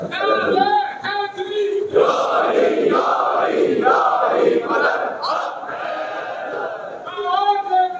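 Crowd at a Muharram majlis raising the Nara-e-Haidari slogan together, a loud massed chant of many voices swelling in repeated waves, with a single voice calling out at the start and end.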